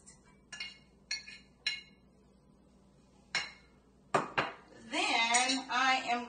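A cinnamon stick, about a teaspoon of cloves and sliced ginger go into a pot for chai, giving several sharp separate metallic clinks and clatters, followed by a person speaking.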